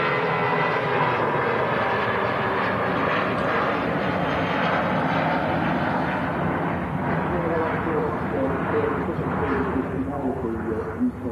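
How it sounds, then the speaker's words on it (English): A British Airways shuttle airliner bound for London Heathrow roars past loudly, a dense, powerful engine sound that holds strong throughout, with people talking over it. "Nice sound there from the British Airways shuttle service heading down to London Heathrow."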